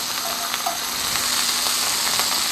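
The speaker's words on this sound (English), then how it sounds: "all you have to do is just brown up the little pieces of steak" Small pieces of steak brown in a pan for keto garlic steak bites, giving a loud, continuous close sizzle with scattered pops and spatters and no talking.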